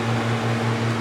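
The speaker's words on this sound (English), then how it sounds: "Sorry about the fan, it is hot in here." An electric cooling fan runs in a hot garage during clutch work on a 1993–2004 Ford Ranger, giving a steady, close, loud hum with a broadband whoosh and no talking.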